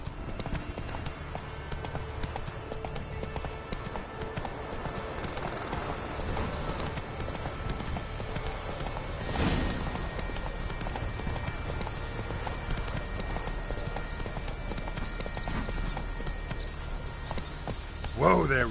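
Hooves of Roach, Geralt's horse in The Witcher 3: Wild Hunt on PS4, clip-clop at a steady trot, continuous and fairly close, with game music and ambience running underneath throughout.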